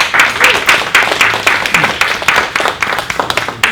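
A live audience at an NSA Houston event applauds the speaker Jonathan Sprinkles, dense steady clapping with brief louder bursts filling the room, and a voice occasionally heard through it.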